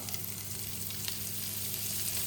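Mushrooms and asparagus fry with butter in a hot pan, giving a steady, close, even sizzle with no pauses.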